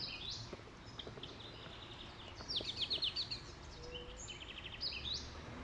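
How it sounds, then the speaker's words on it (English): Birds chirp and trill in the background beside a river in Trinidad, faint repeated song phrases rising over a soft steady ambience with some insect buzz. "Listen to the background songs of the birds."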